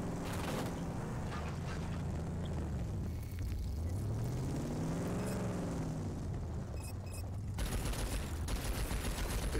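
Rapid bursts of gunfire crackle continuously over a dense, steady soundscape in the video game RAGE 2, with a brief engine-like rising and falling tone in the middle.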